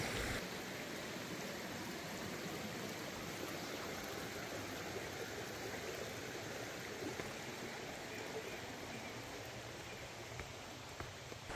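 A river rushes past at an Appalachian Trail river crossing near the Connecticut line, a steady, even wash of flowing water, fairly soft and unbroken, with no voices.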